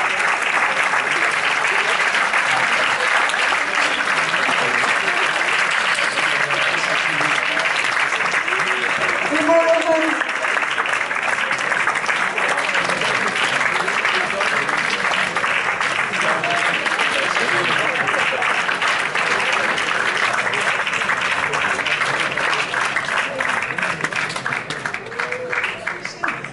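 A theatre audience applauds former performers called onto the stage, a dense, loud, continuous ovation lasting throughout, with a voice speaking briefly over it.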